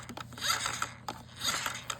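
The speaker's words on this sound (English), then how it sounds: "side brush motor, which is why it sounds like this" The worn side brush motor of a Roomba 694 robot vacuum runs with a rhythmic, raspy grinding and scraping, pulsing in short repeated bursts close up.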